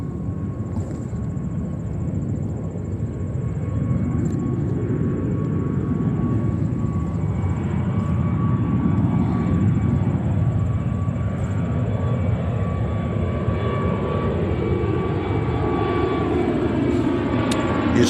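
An El Al Boeing 787-9 in retro livery, arriving from Tel Aviv, lands with a steady jet engine roar that swells and holds, accompanied by faint tonal whines and distant airport background, with no talk.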